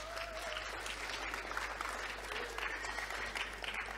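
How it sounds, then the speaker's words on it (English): Conference audience applauding the speakers, a full, even roar of many hands clapping that keeps going without a break, with faint voices mixed in. "give a big round of applause to the speakers as well"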